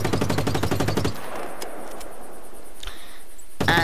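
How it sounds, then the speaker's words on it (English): Rapid automatic gunfire in Just Cause aimed at shooting out a car's tires, a dense burst of shots for about a second, then fading rumble and scattered crackles before another loud blast at the end. "you don't mind me shooting your tires out"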